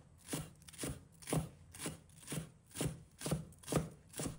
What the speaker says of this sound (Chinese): 再把它切成稍微细一点的葱花，我们尽量的切小一些